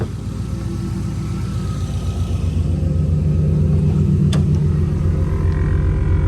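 A car engine runs steadily at idle after a paint job, a low continuous rumble close by with a faint hum of compressors, plus a brief sharp tick midway and no talking.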